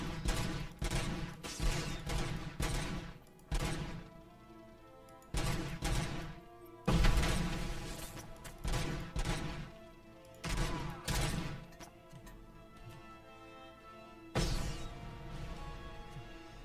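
Gunfire from RoboCop Rogue City, loud bursts of rapid shots in several volleys separated by short pauses, dense and punchy with crashing impacts.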